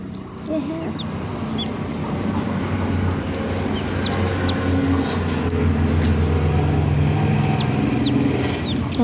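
A hen clucks repeatedly in short, close calls over a steady, loud background hum, with faint chirps scattered throughout.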